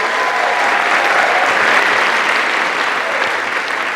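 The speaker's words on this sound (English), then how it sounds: "If you agree, let me hear you clap." An audience at a community story slam event breaks into dense, steady clapping that holds evenly for the full few seconds, with no voices on top.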